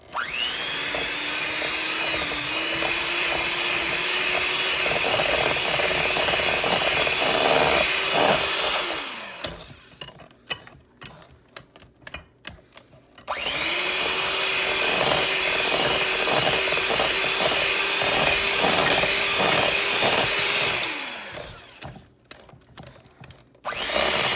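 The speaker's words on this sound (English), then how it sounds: "Okay, I'm going to switch over to my handheld mixer." Handheld electric mixer creaming buttermilk chocolate chip cookie dough: a loud, steady motor whine runs for about nine seconds, cuts out to scraping and clatter, then runs again for another long burst.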